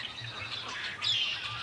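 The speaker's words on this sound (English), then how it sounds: "Man, the blackbirds, they're everywhere." Blackbirds chirp from a tree full of them near a cornfield, a few thin, faint calls over quiet rural background, with one brighter chirp near the end.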